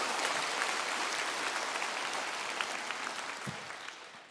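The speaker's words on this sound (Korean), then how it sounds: "하고 나면 박수로 주님께 영광의 박수 올려드리겠습니다" Church congregation applauding in a large worship hall, steady dense clapping that sustains throughout and tapers slightly toward the end, with no talk over it.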